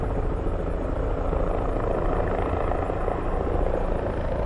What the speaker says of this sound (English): Oh, now we have 3 helicopters.